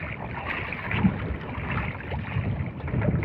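Small fishing boat rocking in big sea waves, with steady wind-blown water noise and sloshing swells around the hull, fairly close and continuous with occasional louder surges.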